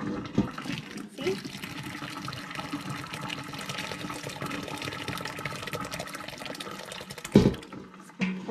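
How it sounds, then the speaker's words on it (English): Whey ricotta is poured from a pot into a kitchen strainer, giving a continuous liquid pouring and splashing sound with small knocks at the start and end, while someone talks over it. "Pour as much as you can into your strainer."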